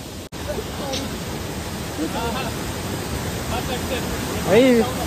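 A tall, fast-flowing waterfall near Kankavli in Sindhudurg roars as a steady, dense broadband rush close by, with people talking over it and one voice rising near the end.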